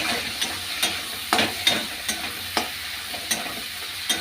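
Dried fish curry sizzles in a pan with onion, tomato and coriander leaves, a steady fry broken by sharp stirring scrapes that come roughly every half second, close up with no voices.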